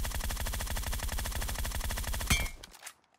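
Rapid, steady automatic gunfire in PUBG Mobile that ends in one sharper shot and then fades to silence; the game's SKS rifle is the stated weapon.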